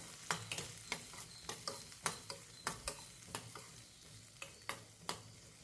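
Garlic and onions sautéing in oil for chutney: a quiet, continuous sizzle marked by regular sharp ticks and taps as a spoon stirs against the pan, roughly two strokes each second.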